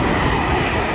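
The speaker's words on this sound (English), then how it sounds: "It's going to be a London Northwestern Railway service to Birmingham New Street via Northampton and Coventry." A London Northwestern Railway Class 350 electric train passing through Bletchley station, a loud, steady rumbling roar close by, filling the whole moment without talk.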